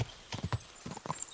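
In the video game Kingdom Come, a horse's hooves clip-clop in a quick, uneven rhythm of several close, muffled thuds, with a short whinny mixed in and no talk over it.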